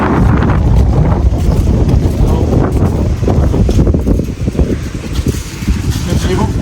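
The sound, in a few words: cold wind blowing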